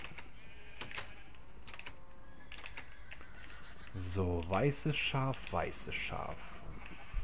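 Sheep in the video game Minecraft bleat several times in quick succession over clattering keyboard typing, with someone speaking briefly.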